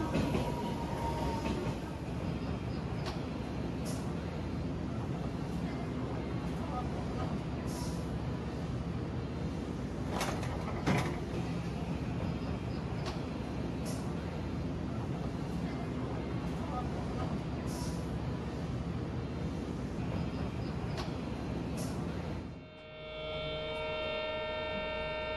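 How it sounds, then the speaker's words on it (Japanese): Odakyu Romancecar MSE 60000 series express train during a separation operation, a steady rumble of rolling rail cars with occasional sharp clanks and squeals, ending abruptly as a tonal chime or announcement tone sounds. "それでは、列車が分離する映像をご覧ください。"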